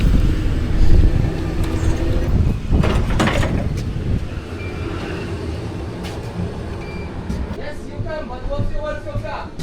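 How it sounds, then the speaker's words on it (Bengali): A city bus pulls up and drives off, its engine rumbling low and steady under broadband road and traffic noise, with faint voices and brief chimes or beeps near the end. "বসে পড়লাম বাসে, বাস যাচ্ছে"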